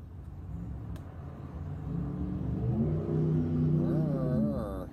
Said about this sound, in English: Cars.